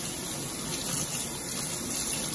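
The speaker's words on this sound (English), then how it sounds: "definitely want to rinse off your cilantro" Fresh cilantro rinsed under a running kitchen tap while making arroz con pollo, a steady, close, full-band hiss of water with no voices.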